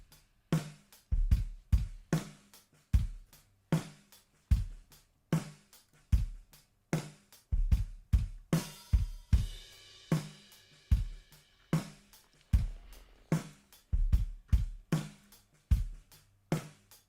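A drum bus in a live mixing session plays alone: steady kick and snare hits with a busy rhythm, one brief crash-like wash near the middle, fairly close and moderately loud.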